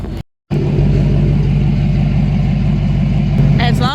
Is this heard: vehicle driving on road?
yes